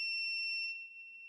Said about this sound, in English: Oh, I heard a small beep, so I think it must be one of these.